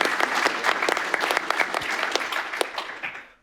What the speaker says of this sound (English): Let's have another round of applause for our speaker.